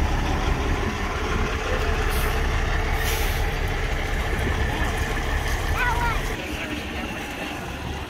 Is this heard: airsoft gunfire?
no